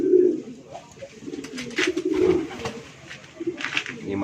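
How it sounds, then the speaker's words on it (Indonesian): Pigeons at a loft coo in soft, low repeated phrases, close by, with occasional rustling and faint background talk between the calls. "dia juga bawa merpati, ada sekitar 2 lah, 2 merpati"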